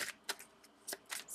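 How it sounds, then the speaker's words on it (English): Tarot cards being shuffled by hand, in several quick riffling bursts separated by brief pauses, close and crisp with no voices. "so hard to shuffle"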